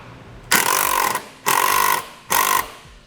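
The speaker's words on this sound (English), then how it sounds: "put it on a 5/16 driver, and we will go into the hole that we drilled" A power driver turning a long self-tapping screw with a washer on a 5/16 bit into a drilled hole for a vehicle side step, three loud close whirring bursts with short pauses between.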